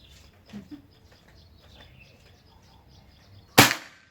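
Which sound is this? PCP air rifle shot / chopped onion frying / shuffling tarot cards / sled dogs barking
PCP air rifle shot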